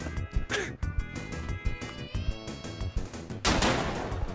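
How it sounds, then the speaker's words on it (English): Gunfire in a survival video game, rapid bursts of shots in a choppy rhythm over a musical background, with a louder, harsher blast near the end. "I'm getting shot at."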